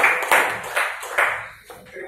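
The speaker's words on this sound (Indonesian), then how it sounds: "kita kasih aplaus kepada" Audience applause at a breast cancer health talk, a short burst of scattered clapping in a hall that rises and falls in waves, fairly close, with a voice speaking faintly underneath.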